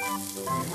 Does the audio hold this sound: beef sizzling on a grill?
yes